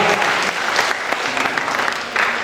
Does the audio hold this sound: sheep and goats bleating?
no